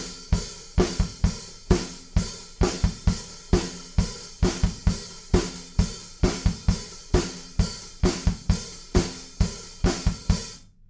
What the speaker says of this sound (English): we're playing pretty much exactly what we were doing in the verse, but just with 8th notes on the hi-hats, nice and slushy